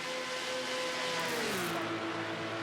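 Porsche race cars battle in a sim racing endurance event on the digital Nürburgring, a loud continuous engine whine rising and shifting pitch as the cars run close together, with no voices.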